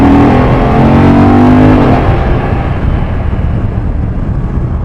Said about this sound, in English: More exhaust notes would be nice to hear more of that transverse V-twin